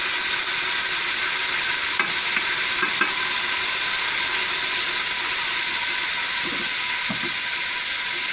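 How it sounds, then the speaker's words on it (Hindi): A steady, loud sizzle of garlic-ginger paste frying in hot oil, with a few faint utensil scrapes and stirs over the continuous hiss. "मैं इसके अंदर लहसुन अदरक का पेस्ट ऐड कर रही हूँ"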